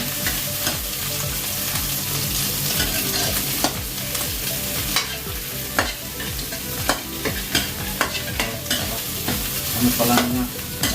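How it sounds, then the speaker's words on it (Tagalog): Sweet pork ribs sizzle and fry in a pan while being stirred. Steady loud crackling runs under repeated scraping strokes of the spoon, close up and without talk. "haluin natin guys"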